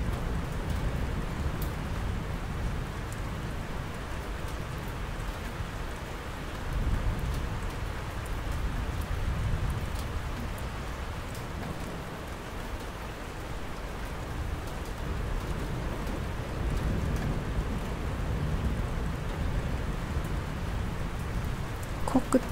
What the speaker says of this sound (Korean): 이제 잠시 빗소리에 귀를 기울여 보세요.